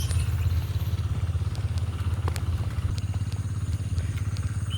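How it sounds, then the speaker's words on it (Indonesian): Tractor plowing a rice paddy amid green terraced fields, its engine a loud, steady, close chugging drone that runs throughout with faint clatter on top. "Pak Tani sedang membajak sawah menggunakan traktor"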